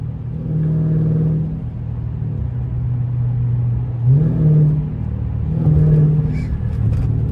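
A Scat car fitted with catless midpipes rumbles at close range with a deep, loud idle, swelling twice into short revs before settling back to a heavy drone.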